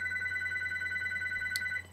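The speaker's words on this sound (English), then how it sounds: "Phone's ringing." A telephone rings indoors with a steady electronic trill sustained for nearly two seconds against a low background hum, then cuts off.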